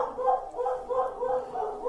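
Dogs howl and bark from a distance in a rising and falling, rhythmic chorus that repeats several times. The sound is moderately loud, and no one speaks.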